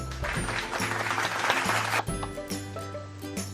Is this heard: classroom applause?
yes